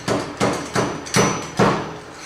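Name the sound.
tapping Harley fork oil seal into place with seal driver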